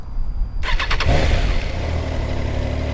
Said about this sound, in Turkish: Şimdi bu motoru bir çalıştıralım.